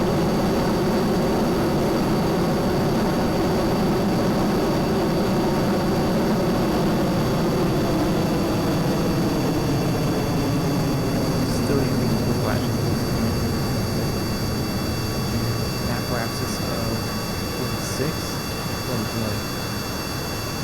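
Spaceplane jet engines in the video game Kerbal Space Program roar steadily for the whole stretch, a loud, even wash of engine noise with some talking over it.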